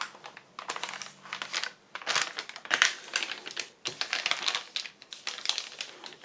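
A large paper bag is folded in half by hand, giving several close, loud bursts of crinkling and crumpling paper with brief pauses between, and no talking.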